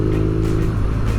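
A motorcycle engine runs steadily nearby, a loud low rumble with a brief rise in revs, and no voices.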